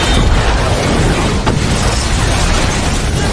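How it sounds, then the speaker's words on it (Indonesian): A fuel tank shot by a sniper explodes in an action film, a loud sustained roar of blast and rumble that fills the whole stretch, with a brief sharp crack near the middle. "Brandon menembak tangki bahan bakar yang mengakibatkan meledak"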